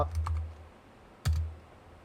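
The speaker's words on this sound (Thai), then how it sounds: "จากนั้นก็ต่อมาพิมพ์ตามผมได้เลยนะครับ" Code being typed on a computer keyboard during a Flask setup, a few soft key clicks in two short bursts, close but quiet with a pause between.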